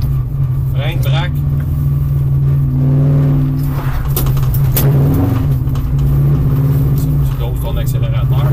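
Rally car engine in a Rallye Icar session revving and droning through a corner as the throttle is modulated, loud and close, with an instructor talking over it throughout.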